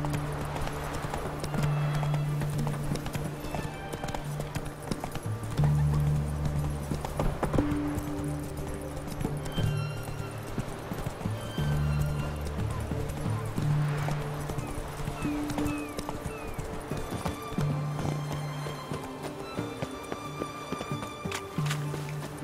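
Horse galloping in the video game The Witcher 3: Wild Hunt, heard as a steady rhythmic clip-clop of hooves throughout, with occasional neighs over a continuous game soundtrack and ambience.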